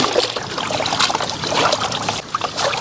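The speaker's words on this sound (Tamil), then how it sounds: "சிக்கனையை மட்டனை நல்லா கழுவி எடுத்துக்கலாம்." Chicken and mutton pieces being washed in water for mixed biryani, with steady splashing, trickling and sloshing close by, plus brief clinks and handling noises throughout.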